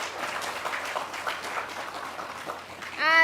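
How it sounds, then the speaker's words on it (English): Audience applause for a nursery school children's performance at an airstrip commissioning ceremony, a steady burst of clapping from a crowd lasting a few seconds before fading into a brief voice at the end. "Let's give them another round of applause."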